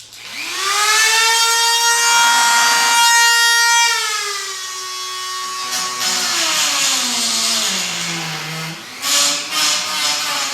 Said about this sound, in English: Now one thing to remember with the Dremel is that you don't want to put pressure on it.